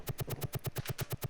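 Helicopter cannon fire in the 1991 combat helicopter sim Gunship 2000, a rapid, perfectly even burst of about a dozen sharp synthetic shots, loud and alone.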